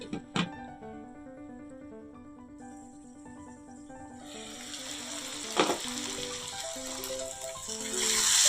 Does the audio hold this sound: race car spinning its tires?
no